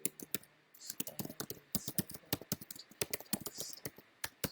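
Rapid, uneven typing on a computer keyboard, close and crisp, with quick clusters of key clicks and short pauses, fairly quiet overall.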